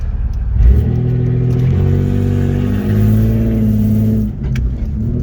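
Loud modded Toyota Camry with no muffler accelerating hard, a raw, droning engine roar rising steadily from close by, briefly dipping between gears before pulling again.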